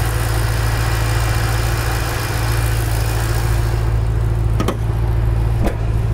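A 2008 Ford Mustang GT500 with a tune and aftermarket exhaust idles steadily, giving a deep, even rumble heard close up, with a couple of sharp clicks near the end.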